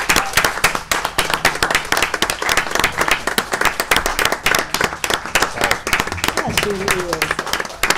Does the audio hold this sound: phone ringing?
no